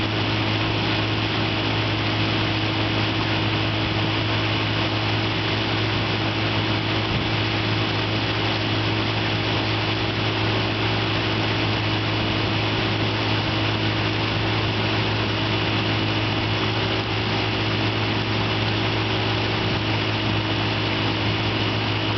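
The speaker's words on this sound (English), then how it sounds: "Quiet running motor, and the compression's really nice. Idles down well and everything," A 1956 Evinrude Fleetwin 7.5 hp outboard motor idles steadily in a snowy setting, giving a continuous, even drone at moderate volume with no talk over it.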